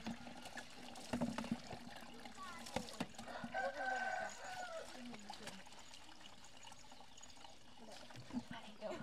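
Mountain water pours and trickles into an outdoor shower in rural Laos, a faint, uneven splashing flow heard throughout with quiet sounds mixed in.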